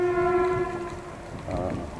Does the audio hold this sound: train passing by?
yes